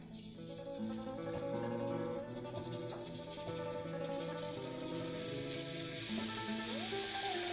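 Breadcrumbs sizzle in a heated pan of medieval garlic sauce, a soft continuous crackle close by under a faint musical background.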